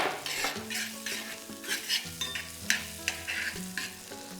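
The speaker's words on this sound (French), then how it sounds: "Donc on va faire revenir de petites échalotes." Small shallots sautéing in chive-flower butter made with Bresse butter, a soft, fairly quiet sizzle under frequent rhythmic scrapes and taps of a utensil stirring in the pan, with no voices.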